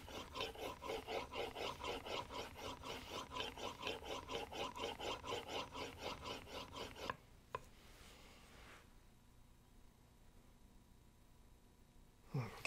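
A hand plane blade being sharpened on an 8000 grit waterstone, fast rhythmic back-and-forth rubbing strokes for about seven seconds, then a click and near silence.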